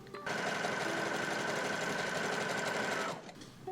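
A sewing machine stitches a buttonhole through two layers of fabric for a pair of overalls, running as a steady, fast, even whir for about three seconds before stopping.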